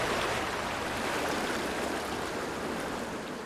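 Water from a creek beside a home flows in a constant, loud, broadband rush that fills the whole clip without a break.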